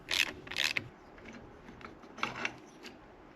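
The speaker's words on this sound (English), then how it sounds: "Remove the stock bar clamp on the right hand side of your handlebars by unscrewing 2 bolts on the bottom." Handlebar clamp bolts being unscrewed on a Can-Am Spyder F3, a few close ratcheting clicks and metallic tool scrapes in short bursts over quiet.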